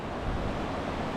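Ocean surf at Cherry Grove Beach, a steady broadband wash of breaking waves with wind rumble against the microphone, continuous and fairly loud with no voices.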